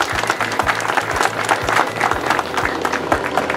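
Crowd applause at a religious procession honoring the Señor de los Milagros, busy clapping layered over a low rhythmic drum beat, fairly loud and continuous throughout.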